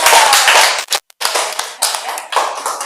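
A classroom of students claps for a student group, brisk dense clapping that breaks off briefly near the middle and then resumes at a slightly lower level.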